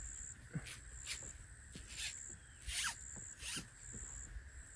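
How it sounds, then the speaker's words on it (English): A zipper on a camping bag, unzipped in short strokes in a quiet outdoor setting in the Florida wilderness, with faint insects chirping steadily in the background. "So we unzip this thing here and I'll unfold it."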